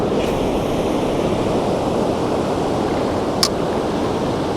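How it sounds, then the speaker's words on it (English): Ocean surf rolls onto a beach in a steady, loud roar of broken water and wind, with no distinct crash standing out and no one speaking. "There's still some turbulence, but nothing like when those big ones are crashing"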